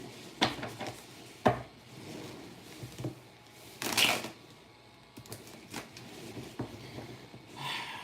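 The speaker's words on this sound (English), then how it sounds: "You guys can see the shuffling is not going well" Several brisk riffling bursts of cards being shuffled, scattered through an otherwise quiet room, with soft handling noises between them.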